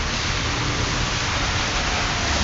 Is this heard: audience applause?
no